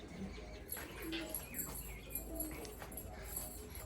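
Pigeons coo softly in a loft, low repeated throaty calls under a murmur of background voices and faint clatter.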